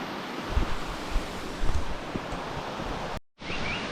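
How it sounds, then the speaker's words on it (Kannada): Water from Didupe waterfalls rushes past nearby as a steady, broad wash of noise, with wind buffeting the microphone, a short break, and then the flow resuming. "ಪಕ್ಕದಲ್ಲಿ ಫಾಲ್ಸ್ ನೀರು ಹರಿತಾ ಇದೆ"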